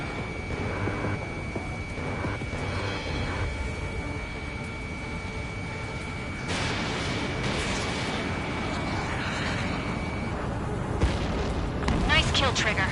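Missile launch and explosion in Ace Combat 7 on PS4 Pro: a sustained jet roar swells into a louder rumbling blast with crackling bursts near the end, while radio voices talk over it.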